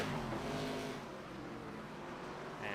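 Race cars in the iRacing video game roar down the front straightaway at Road Atlanta, a dense, continuous engine drone with slight revving swells throughout.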